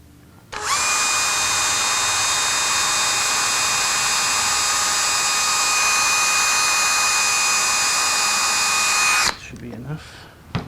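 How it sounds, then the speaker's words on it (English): A power drill bores through binding on a 1964 ES-335 guitar build, running in one loud, steady high-pitched whine for about nine seconds before stopping abruptly, with no talk over it. "Drill through some binding."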